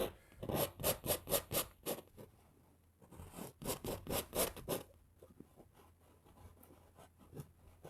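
A brush scrubs oil paint onto canvas for a winter mountain landscape in rapid rhythmic strokes, first one burst of about eight rasping swipes, then a second similar run, fading to lighter scratching; close and quiet, with no talking.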